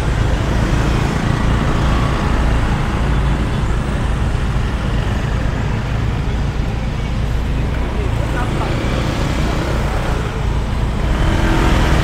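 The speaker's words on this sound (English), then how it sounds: "There is really bad traffic jam." Heavy congested road traffic on a street in Kuta, Bali: a steady, loud wash of idling and creeping car and bus engines with occasional revving, unbroken throughout.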